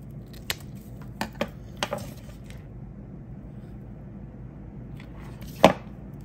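Scissors snip through paper during a Valentine craft, a few sharp, separate cuts spaced over several seconds, close and fairly quiet, with a louder final snip near the end.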